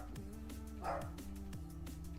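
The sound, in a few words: dog barking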